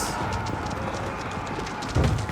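Massed cavalry hooves clatter in a dense, continuous rumble during an Age of Empires match with elite Keshik, horsemen and horse archers, with a louder surge near the end and no voice over it.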